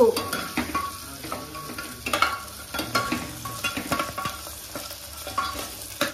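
Chillies fry in a pan while being stirred, with a soft continuous sizzle under repeated scraping strokes of the spoon at an uneven rhythm, heard close up.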